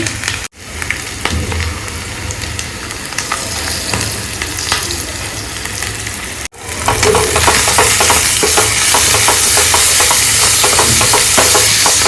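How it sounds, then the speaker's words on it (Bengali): Potatoes fry with turmeric and salt in a small wok, giving a loud, dense sizzle close by. A brief break is followed by a stronger, brighter crackle, with stirring scrapes running throughout. "এখানে আমি ছোট্ট একটা কড়াই বসিয়ে একটুখানি তেল দিয়ে 5 ফোড়ন দিলাম, আর এর মধ্যে আমি আলুটা দিয়ে দেবো।"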